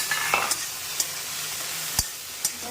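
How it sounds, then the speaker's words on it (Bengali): Sliced okra frying in a pan, a soft continuous sizzle broken by a few crisp spatula scrapes and taps as it is stirred, heard up close with no talking. "এমনি ভিন্ডি ভাজা।"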